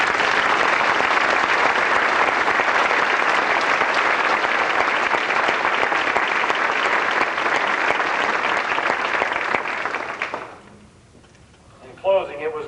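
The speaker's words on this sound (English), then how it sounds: "I'd really like a nice round of applause for our academic students." Sustained, loud audience applause honoring academic award students at a 1995 high school awards dessert, the clapping running steadily for about ten seconds before cutting off, followed by brief faint voices at the end.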